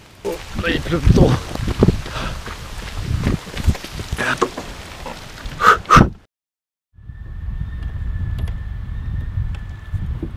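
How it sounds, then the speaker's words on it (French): Heavy rain and wind outdoors make a dense, rushing wash of noise with a person talking over it, then a brief silence before the steady downpour resumes alone. "Oh, là il pleut trop."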